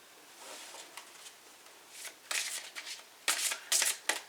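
Tarot cards being shuffled close up, a soft riffling that builds into several louder, quick bursts of shuffling toward the end, no voices.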